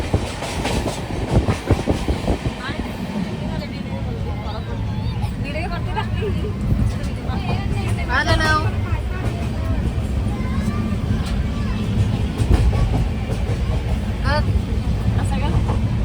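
A passenger train rolls along the rails near Panvel in Maharashtra, a steady rumble and rhythmic clickety-clack carrying throughout, with chatter from passengers inside the carriage now and then.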